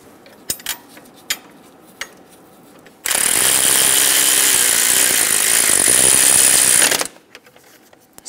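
Power tool snugging wishbone bolts on a 2010-2014 Subaru Outback, a loud continuous whirring rattle lasting about four seconds close up, framed by a few light metallic clinks before and after.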